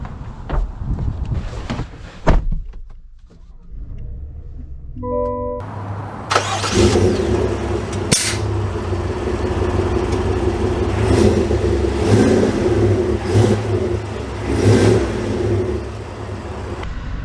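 A 2022 Chevy Suburban Z71 SUV engine cranks and catches, then settles into a steady running hum that builds as the vehicle pulls away, loud and close throughout.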